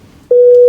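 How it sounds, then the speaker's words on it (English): A steady electronic phone tone cuts in abruptly after a quiet pause and holds loud and unbroken to the end, interrupting an evening online meeting. "I don't know why it keeps ringing."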